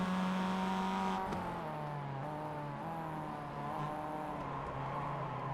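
Mazda MX-5 race cars lap Summit Point Jefferson circuit, a steady engine drone with a pitch drop near the start as one car passes, then sustained high revving and gear changes from mid-distance throughout.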